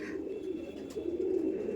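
A pair of Phulshira pigeons at a loft coo steadily and close by, soft low throaty calls rolling on without a break and heard alone.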